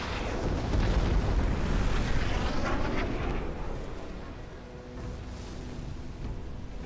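Airstrike explosions in a war video game build into a heavy, continuous roaring rumble that fills the scene, loud at first and easing slightly toward the end, with no voices over it.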